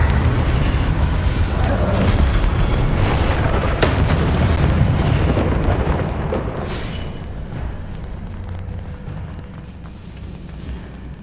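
In the Hogwarts Legacy video game, an Incendio fire spell lets out a loud, sustained roaring blast that rumbles heavily for several seconds and then fades to a lower, quieter crackle.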